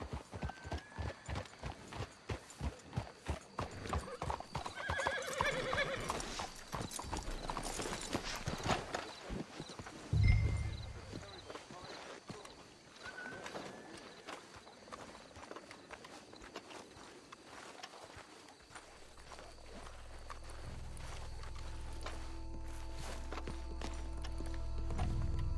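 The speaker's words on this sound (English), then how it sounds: "Let's hitch the horses up ahead." Horses in Red Dead Redemption 2 clip-clop steadily at a walk, the hoof beats close and repeated, with a brief whinny mid-way before the hooves slow and settle among faint ambient wind.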